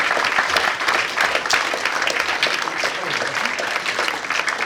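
Audience applause at a football club's Player of the Year awards night, a dense steady roar of many hands clapping throughout, loud and close with some murmur from the crowd.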